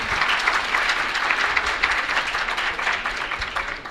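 Audience applause for Professor Matthew Carmona at a lecture in Tehran: dense, steady clapping from a large crowd, loud and continuous throughout, easing slightly toward the end.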